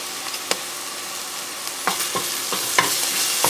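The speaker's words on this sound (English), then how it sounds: "I'm going to stir this together" Turmeric and ginger garlic paste being stirred in a hot pan for lamb biryani give a steady close sizzle, with a few soft scrapes and taps of the spoon across the pan.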